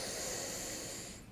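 A single deep breath drawn in through the nose sounds close and soft-edged, a breathy rush that fades out at the end.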